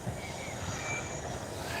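A British Rail Class 334 electric multiple unit passing near Glasgow city centre, a steady rolling rumble with faint wheel squeal and thin high whines, continuous at moderate distance.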